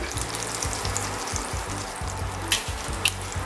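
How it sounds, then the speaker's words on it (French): Flank steak searing in a hot pan gives a loud, dense, continuous sizzle close by, with a low rumbling hum underneath and two brief sharp clicks near the end. "On met un coup de chaud à la poêle."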